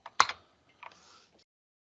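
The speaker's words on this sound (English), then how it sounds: "I apologise for the volume of my keyboard." A loud computer keyboard clacks in two short bursts, a sharp cluster of keystrokes followed after a pause by a softer run of taps, close and dry with silence around them.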